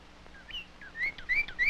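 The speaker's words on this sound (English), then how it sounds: "He found birds." Several short bird chirps and whistled calls, fairly close, repeating over a faint background hiss, growing busier toward the end.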